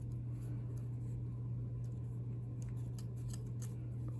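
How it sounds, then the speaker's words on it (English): Scissors cut through fabric in a run of soft, crisp snips at an irregular pace, close by, over a low, steady hum. "These scissors are not very good scissors."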